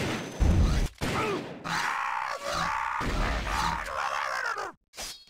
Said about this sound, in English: flamethrower.